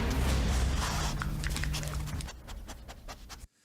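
A dog pants heavily and rhythmically close by, the quick breaths fading toward the end; the dog is part of a canine brigade being trained to help health authorities detect COVID during the pandemic.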